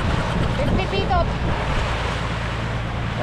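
Ocean waves wash steadily onto the shore at an evening seaside dinner, a continuous broad roar mixed with wind buffeting the microphone, with brief chirps above.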